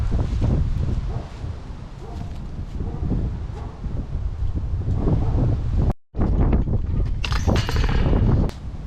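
Outdoors on a disc golf course, a headwind buffets the microphone with a continuous low, rough rumble and rustle that drops out briefly once partway through.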